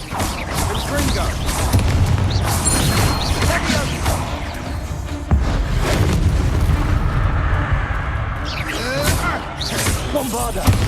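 Fiery blasts from the Confringo spell in Hogwarts Legacy burst repeatedly through a dense, loud stretch of combat, with booming impacts, crackling debris and cast effects piling over one another and a sharp hit near the midpoint.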